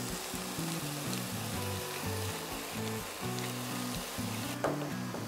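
Meat browns in a pan with thyme and black pepper, giving a continuous close sizzle with a soft crackle and a few stirring knocks, and no voices.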